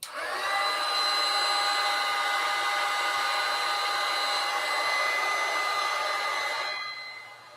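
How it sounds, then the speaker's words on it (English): A heat gun roars steadily and loudly while shrinking heat-shrink tubing, a continuous blowing whine with tonal hum that runs alone for about seven seconds before cutting off. "Hit it with the heat shrinker."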